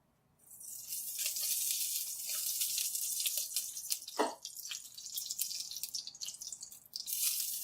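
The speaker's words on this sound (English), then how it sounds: "we're going to add 2 tablespoons of olive oil" Olive oil poured into a hot pan before cooking mushrooms, a soft hiss and sizzle with a brief drip-like splash in the middle, faint and close.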